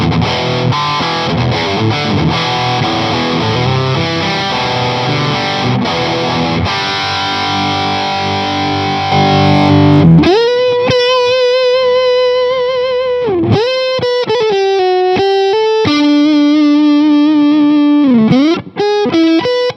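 Electric guitar through a Two Rock Amethyst amplifier with the bright switch engaged, heard through Celestion speakers. Dense overdriven chords ring for ten seconds, then sustained, singing lead notes with bends and vibrato follow, loud and close.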